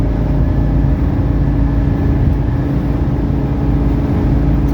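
A 1983 Mercedes 300CD cruising at about 90 mph, giving a steady, loud low engine drone and road rumble that stays even throughout with no talk.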